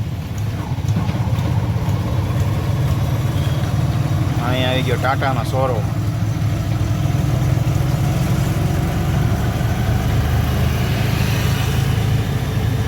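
Road traffic on the Raiya Chokdi bridge in Rajkot, a steady low rumble of car, truck and motorcycle engines running throughout, with someone talking over it and a brief mid-range warbling tone in the middle.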